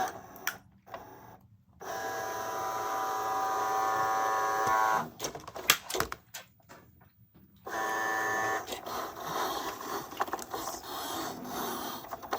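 A Cricut Joy 2 cutting machine works in short bursts of motorized whirring and soft carriage movement, broken by pauses and small clicks and rubbing sounds, fairly quiet and close.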